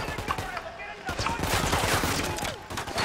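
Dense gunfire in the video game Ghost Recon Wildlands, rapid automatic bursts and overlapping shots rolling continuously from several directions, loud and close, with a voice exclaiming over the barrage.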